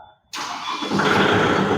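A 2023 Kubota MU 5502 4WD tractor diesel engine cranks and catches after a key turn, starting abruptly from near silence and settling into a loud, steady close-up idle.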